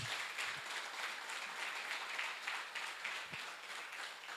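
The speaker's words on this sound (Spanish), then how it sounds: "Dale un aplauso fuerte a Jesús" A church congregation gives a loud round of applause for Jesus during a sermon on the resurrection, a steady wash of clapping heard from a distance throughout.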